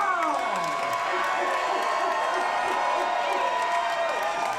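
A fight-night crowd cheers and whoops continuously, loud and close, as an announcer introduces the fighters in an MMA event, with a steady wash of shouting and scattered clapping.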